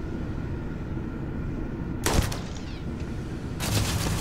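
Automated turrets firing guns in the Starfield video game, in battle in a mantis lair: two loud bursts of rapid gunfire, one at about two seconds and another near the end, over a steady low rumble of game background noise.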